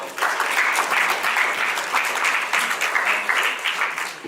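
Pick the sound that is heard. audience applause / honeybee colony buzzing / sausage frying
audience applause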